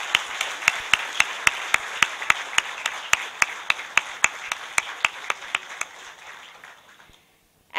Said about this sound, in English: So a big round of applause to all of you